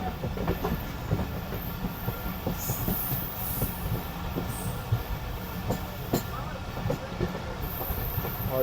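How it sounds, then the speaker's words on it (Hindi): A Khyber Mail passenger train approaching Rohri Junction, heard from on board as a steady rumble with rhythmic clickety-clack of wheels over rail joints and occasional high wheel squeals, continuous and moderately loud. "इधर हमारी ट्रेन अप्रोच बना रही है रोड़ी जंक्शन पर"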